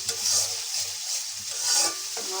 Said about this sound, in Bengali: মাছ দিয়ে রান্না করার জন্য এই যে মশলাটা কষাই নিচ্ছি